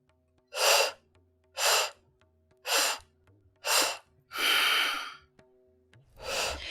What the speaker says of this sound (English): 4 strong, powerful inhales through the rounded mouth, and 1 strong exhale through the nose